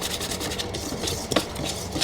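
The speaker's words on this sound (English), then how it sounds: "I'm just whisking together all my dry ingredients first" A whisk scrapes and taps briskly around a bowl of dry gluten-free flour ingredients, a soft, continuous rustling close up with light clinks against the sides.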